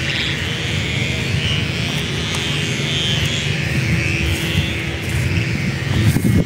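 Kite-filled sky over Samila Beach, Songkhla, during the kite season: a steady, loud droning hum with a high whine above a rumbling low wind roar, continuous throughout with no talk.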